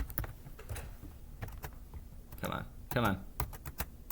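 Bursts of rapid typing on a computer keyboard, quick clusters of key clicks separated by short pauses, close and fairly quiet, with a brief spoken interjection in between.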